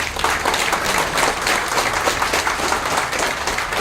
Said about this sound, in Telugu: ఒకసారి గట్టిగా క్లాప్స్ కొట్టాలి